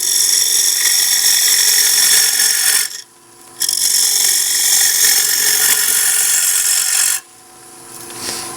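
Bowl gouge held at an angle cutting a wooden bowl blank spinning on a lathe: a steady, loud, broadband scraping rasp that breaks off briefly near the middle and then fades to a quieter hiss at the end.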